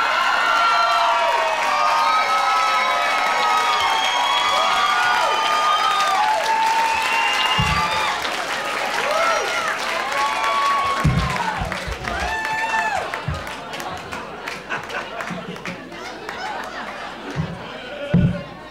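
A live podcast audience bursts into applause and cheering, a dense wash of clapping and scattered shouts with chatter underneath, gradually thinning toward the end.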